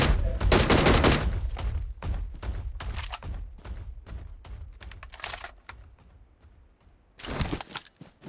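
Gunfire in the mobile battle royale game BGMI comes as loud rapid bursts of automatic shots, with a dense volley at the start, scattered single shots and short strings after, and a final burst near the end.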